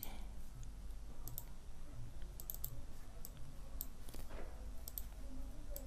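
Mouse clicks from a computer setup while working in CorelDRAW, a handful of short, light clicks scattered across steady low background hum, fairly faint and close.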